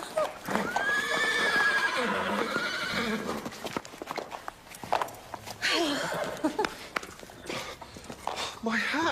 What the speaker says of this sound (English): Do you think you could get your horse to fake an orgasm?